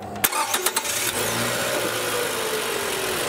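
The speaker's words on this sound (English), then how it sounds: "Now again we have to start the engine." A 12V starter on a Toyota cranks for a few quick beats, then the engine fires and settles into a loud, steady idle, heard close up during a battery charging test.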